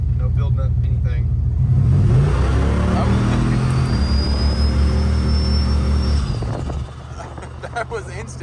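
A turbocharged police car built to over 550 horsepower accelerates loudly and close, its deep engine roar building with a rising turbo whistle before cutting off, while people talk over it.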